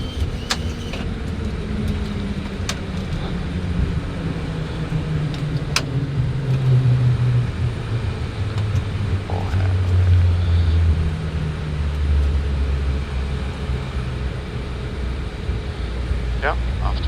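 Inside the cockpit of an Atlantic Airways airliner rolling down the runway after landing on the inaugural New York to Faroe Islands flight, a steady low engine and road rumble fills the space while crew voices talk over it.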